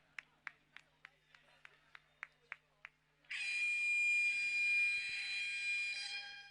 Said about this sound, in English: that is the final buzzer that we hear in the background